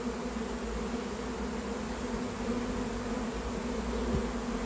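A swarm of honeybees, recently settled, hums steadily and densely up close during a hive recovery at Vaux-le-Pénil, a continuous loud drone with no break across the whole stretch.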